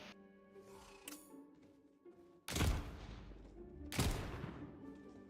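Two loud, sharp gunshot blasts from a pistol in the fantasy shooter game Tiny Tina's Wonderlands, spaced about a second and a half apart, each followed by a short rumbling tail, with game sounds running underneath.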